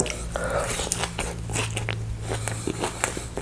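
Someone bites into a spicy Isan-style salad of live raw shrimp, giving close crunchy bites and wet chewing, with talk mixed in around the eating.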